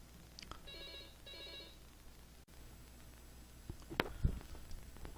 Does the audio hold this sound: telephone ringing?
yes